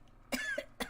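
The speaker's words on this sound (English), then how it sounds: "Now I'm going to cough." A person gives two or three short, quiet coughs close to the microphone in a quiet room, with a faint throat-clearing quality.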